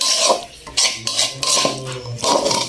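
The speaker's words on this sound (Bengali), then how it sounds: "বুট ভুনাটা এখন নামিয়ে ফেলি" A pot of cooked spiced chickpea curry is handled on the stove, with loud metal knocks and spoon scrapes against the pan in irregular bursts and faint ringing between them.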